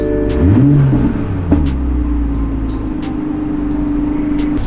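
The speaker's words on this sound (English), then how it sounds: "the exhaust, it sounds pretty good" A bone-stock Toyota Supra's exhaust revs once, rising in a deep swell and settling back to a steady, throaty idle nearby, loud and alone with no talking.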